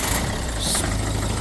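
A Volvo V50 engine running at a steady idle, a continuous mid-low drone with slight knocking texture and a brief hiss partway through, close and fairly loud with no talk.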